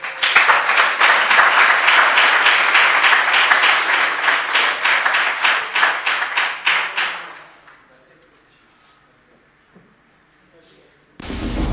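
An audience at a conference claps loudly for a speaker, a dense burst of applause lasting several seconds that quickly dies away into near silence before a sudden loud noise at the end.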